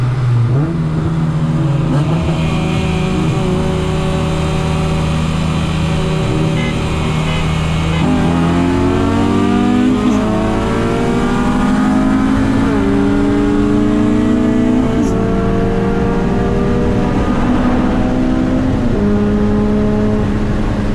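An Acura TSX and a K24-powered Honda Civic Si race side by side, their engines loud and close, revving up steadily in long rising sweeps through the gears for the whole stretch, with no pause.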